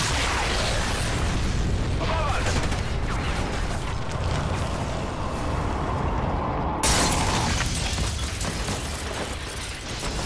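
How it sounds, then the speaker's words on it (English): A video game explosion in Call of Duty Ghosts, a loud, dense roar of blast and rumbling debris filling the whole stretch with heavy mechanical clatter and no clear pause. "I want to rewind time a little bit and have another look at that explosion again"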